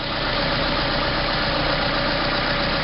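A 2003 Ford Escort's 2.0-litre four-cylinder engine idles steadily nearby, a continuous even hum with a faint mechanical rattle and no talk over it.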